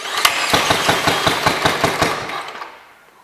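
A Gravely walk-behind tractor engine cranks and sputters close by in a rapid, regular rhythm of firing pulses for a few seconds, then dies away without catching.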